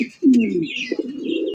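Fancy pigeons coo nearby in low, rolling throaty calls, one strong coo followed by softer repeated burbling, with faint higher chirps behind and no speech.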